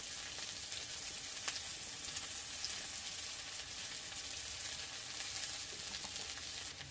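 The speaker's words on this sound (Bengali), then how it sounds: "পেঁয়াজ দেব, আর দেব শুকনো লঙ্কা।" Onion and dried red chillies frying in oil for an egg curry, a steady close hiss and crackle of sizzling with a faint occasional stir, no voices.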